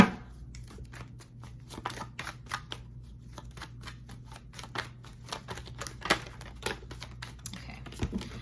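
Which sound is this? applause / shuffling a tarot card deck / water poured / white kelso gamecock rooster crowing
shuffling a tarot card deck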